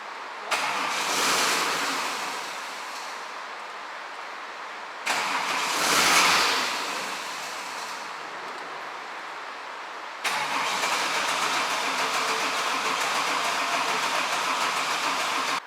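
Chevrolet Omega engine with an oil-light issue cranking and catching in three separate attempts, each with rough revving that rises and fades as it stalls, the last a steadier running stretch; loud and close, no talk.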